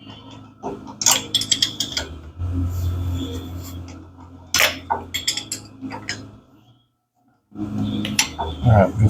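Ratchet wrench turning a bolt on a 1991 Honda Civic wagon, metallic clicks and clinks in short bursts, close and fairly loud, with a brief silent pause before the clicking resumes.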